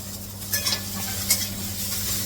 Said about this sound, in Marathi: आता हे सगळं मी कांद्याबरोबर परतून घेते चांगलं